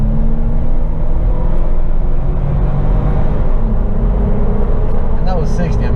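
A stock 2014 Jeep Wrangler with a 3.6 engine, automatic transmission and 35-inch tires accelerates at half throttle, producing a steady, loud low engine drone and road rumble heard from inside the cabin, with a brief faint whine near the end.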